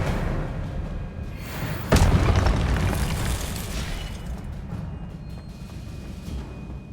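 Hogwarts Legacy gameplay in which an Expelliarmus spell is cast, landing as a sudden loud boom that fades into a rumbling wash of game effects.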